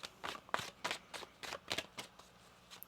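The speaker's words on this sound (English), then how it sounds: "One more shuffle." Tarot cards being shuffled in a quick series of soft riffling bursts, close by and fairly quiet, repeating in an uneven rhythm.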